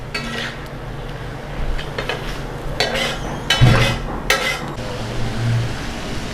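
A spoon stirs and scrapes spiced kaleji (liver) on a hot tawa with masala: close scraping strokes, metallic clinks and light sizzling, with a few louder knocks partway through.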